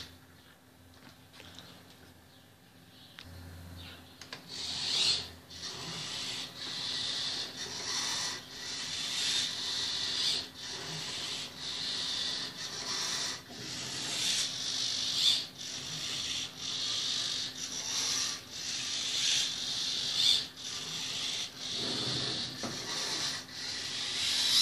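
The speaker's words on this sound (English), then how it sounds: "they're all moving simultaneously" Three Arduino-controlled servo motors moving at the same time, giving a close, steady run of repeated whirring, grinding pulses that keeps going with a regular rhythm, no talking.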